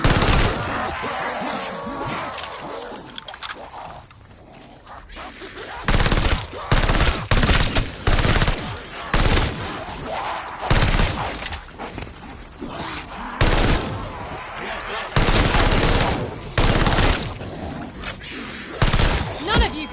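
Rapid bursts of gunfire while shooting zombies in a video game, repeated loud volleys in an irregular rhythm with brief pauses between, mixed with game effects and occasional talk.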